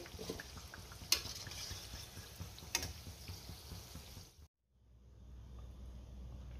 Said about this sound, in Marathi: राहिलेली भजी सुद्धा मी ह्याच पद्धतीने तळून घेणार आहे